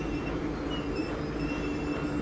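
Looping game elevator sound built partly from a train recording: a steady, continuous rumbling drone with faint metallic ringing tones, even and unbroken throughout.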